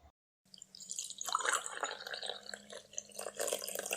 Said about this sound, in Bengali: এবার চাটা কাপে ঢেলে নেব